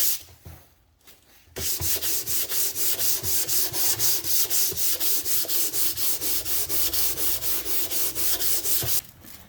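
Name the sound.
hand sanding wooden radio cabinet with 100 grit sandpaper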